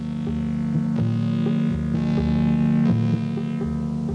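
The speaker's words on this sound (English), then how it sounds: "Hopper dredgers Hendrik Zanen and Geopotes 10 are working on the entrance channel" Hopper dredgers at work in the Richards Bay harbor entrance channel, pumping seabed soil into their hoppers: a loud, steady low engine and pump hum with a rhythmic throbbing pulse roughly every second.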